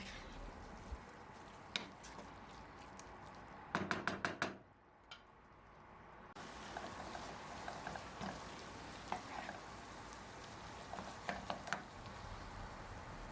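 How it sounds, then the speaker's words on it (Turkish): Tomatoes frying in a pan with steady sizzling, broken by occasional utensil knocks and scraping stirs, then a brief quieter pause before the sizzle returns. "Hemen domatesiyle birlikte de kavuracağım."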